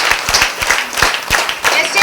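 An audience at a public meeting in Kamareddy claps in a quick, rhythmic run of sharp hand claps close by, with voices mixed in.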